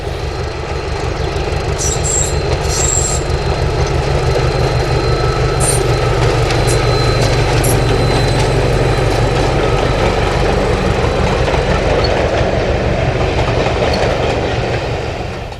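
British Railways Standard Class 5 locomotive 73140 approaches High Rocks on the Spa Valley Railway, a loud, steady rolling roar with rhythmic clickety-clack of wheels over rail joints and brief high squeals, no voices.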